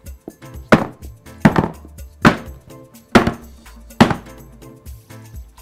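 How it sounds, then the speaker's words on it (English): Cake pans filled with vanilla cake batter are banged down onto a table, giving five loud, evenly spaced thuds close by. "bang your pans onto your table, and this is to remove air"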